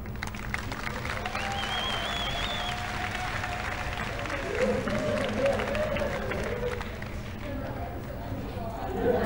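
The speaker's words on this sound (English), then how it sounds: "One more round of applause." A room claps at a high school athletic signing ceremony for a college commitment, steady moderate applause throughout with chatter and voices underneath.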